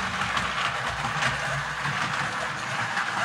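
Penn Line 2-10-0 model steam locomotive, an older model being repaired, running around its track with a continuous rolling rattle and fast mechanical clicking, close and steady, with no talking.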